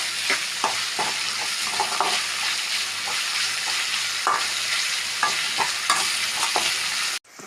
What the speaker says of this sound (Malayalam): ഇതിൽ വാടി കഴിഞ്ഞിട്ട് നമ്മൾ ഇതിൽ മുട്ട പൊരിക്കണം.